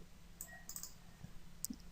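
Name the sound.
computer mouse clicks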